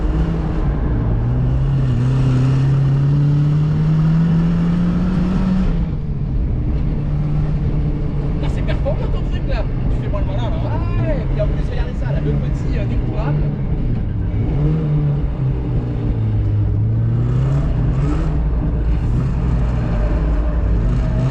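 A turbocharged Mazda MX-5 drifts on a race track, its engine revving loudly in sustained wailing pulls that rise and fall steadily, heard from inside the car with people talking over it.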